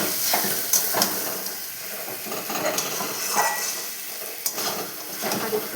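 Chicken pieces frying in a kadai after long browning, sticking to the bottom, giving a loud close sizzle with repeated scraping stirs and occasional sharp clinks.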